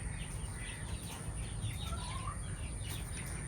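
Chickens on a mixed farm cluck and call from a coop, a steady low rustling bed of birds with scattered faint calls throughout, fairly close.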